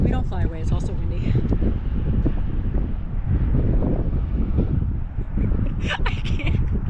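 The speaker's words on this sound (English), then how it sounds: "It's also windy." Wind buffeting a microphone beside a highway at dusk, low rumbling gusts that swell and fade across the whole stretch, close and steady, with passing traffic faintly mixed in and no speech.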